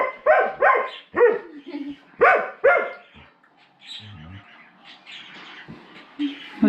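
A dog named Chloe barking in a workshop, several sharp close barks in quick bursts, then quieter yelps and squeaky whines, with birdlike chirps mixed in.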